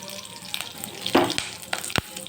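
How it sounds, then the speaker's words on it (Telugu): Cumin, mustard seeds, a bay leaf and curry leaves crackle and sizzle in hot oil for an egg curry, a close, steady hiss broken by a few sharp popping bursts. "ఆయిల్ అయితే వేసేసాను. చూడండి, జీలకర్ర, ఆవాలు, బిర్యానీ ఆకు, అలా కొద్దిగా కరివేపాకు."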